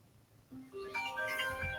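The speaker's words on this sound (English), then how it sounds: "My phone's ringing." A mobile phone ringtone plays during a talk, a short rising melody of tones that steps up and grows louder.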